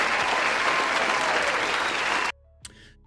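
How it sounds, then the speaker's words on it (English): A canned applause sound effect plays for just over two seconds, dense and steady clapping that cuts off abruptly, followed by a brief faint thump. "as we wait for my applause to load"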